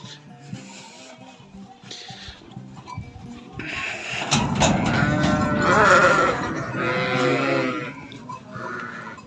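Sheep bleat on a farm, including a pregnant ewe that has not yet lambed, in a few drawn-out, wavering calls that rise to a loud cluster midway, with some rustling and movement close by.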